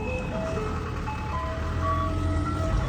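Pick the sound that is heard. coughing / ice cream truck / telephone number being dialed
ice cream truck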